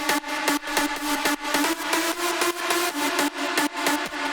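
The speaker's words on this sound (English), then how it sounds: "Which is a severely distorted drop square." A harsh, heavily distorted square-wave synth hammers out rapid rhythmic stabs, gritty and loud, with a steady repeating pattern and no talking.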